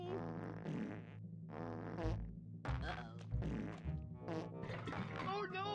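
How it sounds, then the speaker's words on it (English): Cartoonish farting noises from the Nintendo 64 game Conker's Bad Fur Day blurt repeatedly in uneven bursts, mixed with game voices and music. "What is up with all the farting?"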